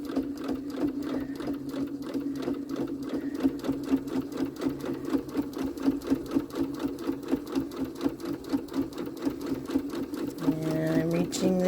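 A sewing machine stitching holiday garland runs in a fast, steady mechanical whir with rapid needle clatter, close and continuous, while someone talks over it near the end.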